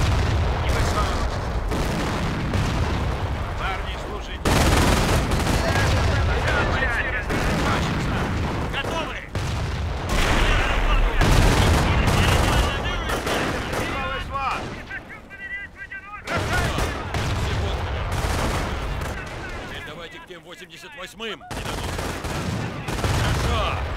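Dense gunfire and booming blasts from the World War II strategy game Company of Heroes, loud and nearly continuous with brief lulls, voiced unit callouts mixed in among the shooting.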